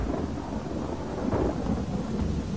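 Rain and rumbling thunder in a video game world, a steady wash of rainfall under a low, rolling thunder roll, with no talk.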